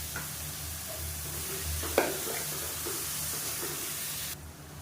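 Onion paste with turmeric sizzles steadily in a pan for Tamil fish curry, a constant frying hiss with a sharp stirring scrape near the middle and occasional soft clinks, no voices.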